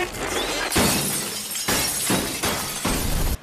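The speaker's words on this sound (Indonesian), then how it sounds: "Seluruh lampu neon di ruangan pecah tanpa sebab." Fluorescent lamps in a room shatter all at once, a dense run of loud, crashing glass breakage that surges in several waves before cutting off abruptly.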